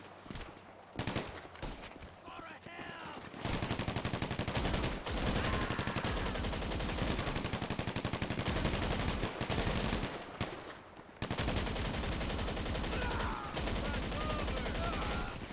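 Sustained rapid submachine gun fire in GTA Online, long dense bursts of rattling shots running for several seconds at a time with short breaks between, loud and close.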